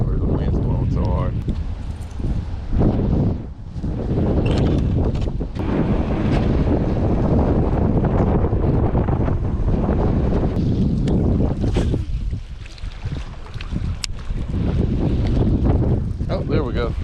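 Strong gusting wind buffets the microphone outdoors at a bass fishing spot, with a continuous heavy roar and brief lulls, and a person speaks intermittently underneath.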